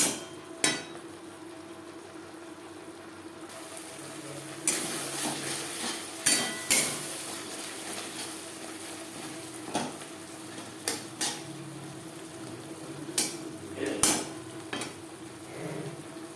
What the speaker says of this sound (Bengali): মিডিয়াম ফ্লেমে 3-4 মিনিট মশলা বেশ ভালো করে কষিয়ে নেব।